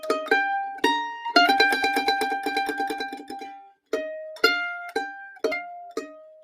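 Mandolin picking a scale pattern with bright plucked notes, steady stepwise runs that pause and resume, played close and alone with no talking.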